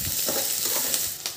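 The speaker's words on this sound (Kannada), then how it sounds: "ಈರುಳ್ಳಿ ಒಂದು ಸ್ವಲ್ಪ ಫ್ರೈ ಆಗಬೇಕು" Onions and a pounded garlic, chilli and cumin paste fry in oil in a pan, giving a steady close sizzle with light stirring scrapes throughout.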